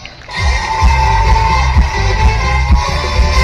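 Audience applause and cheering at a live game-show event at a city festival, a steady roar of claps and shouts holding loud from start to finish over thumping background music.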